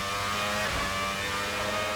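V12 Formula hybrid race car in the Assetto Corsa racing game, a brief, dense high-revving engine scream held steady at a constant pitch.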